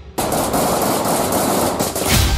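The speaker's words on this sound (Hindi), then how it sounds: "तभी झाड़ियों में से निकलती है एक स्नाइपर की राइफल और फिर देखिए क्या होता है। पहले रडार पर गोली फायर होती है," Sniper rifle gunfire aimed at radar, communication and surveillance equipment on the Israel–Lebanon border: loud, dense, crackling bursts of shots that start abruptly and continue rapidly with a heavier thump near the end, with no talking.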